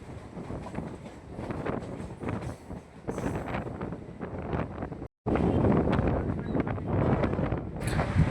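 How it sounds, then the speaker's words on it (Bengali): A local train rolls into Belgharia station on the Naihati–Majerhat line, with rumbling wheels, rattling carriages and wind buffeting the microphone, loud and close with a brief dropout midway. "আমাদের ট্রেন ঢুকছে বেলঘরিয়া স্টেশন।"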